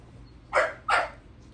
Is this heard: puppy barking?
yes